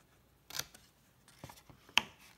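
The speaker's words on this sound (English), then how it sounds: "you're going to cut this little square off." Scissors cut a small square off a piece of paper for a Post-it note holder craft. A few sharp, close snips are spaced apart, with one crisp louder cut near the end and quiet between them.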